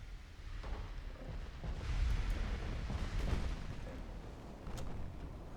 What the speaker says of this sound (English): Oyashio is taking heavy fire from secondaries and light cruisers.